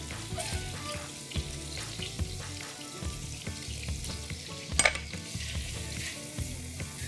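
Chopped garlic sautés in melted Blue Band margarine, giving a steady soft sizzle with scraping and stirring clatter throughout and one sharper clink near the end.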